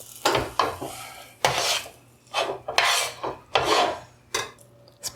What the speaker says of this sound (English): Spread it out evenly in your dish